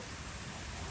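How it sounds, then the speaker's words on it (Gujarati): Steady, even hiss of heavy rain drumming on cement roof sheets, a dense unbroken patter close by with no voices. "ભાઈ વરસાદ આવ્યો"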